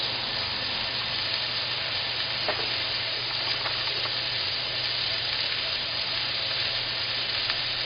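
Moose tenderloin searing in caramelized butter in a hot pan, a continuous even sizzle and hiss with a few faint pops, steady and close throughout with no talking.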